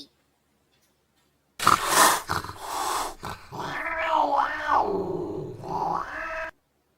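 A deep, rough canine growl rumbles for several seconds, starting abruptly and rising and falling in snarling waves, close and loud, then cutting off.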